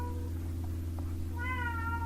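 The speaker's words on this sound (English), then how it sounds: "my cat has brought a mouse into the house and he's trying to kill it" Cat meowing indoors while hunting a mouse, a couple of short meows over a steady low hum, with no voices.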